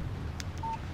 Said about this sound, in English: What did I tell you? Damn. Text message from Barry.